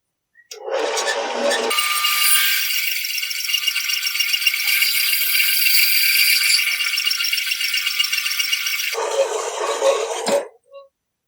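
A Harbor Freight band saw runs through material in a steady loud rattling buzz for most of the stretch, starting and ending with a lower motor whir, close and alone without speech.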